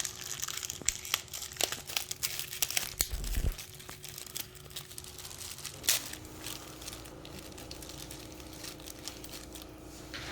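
Plastic packaging for silver cartridge bolts being torn open and handled, close crinkling and crackling in irregular bursts, busiest early and quieter toward the end.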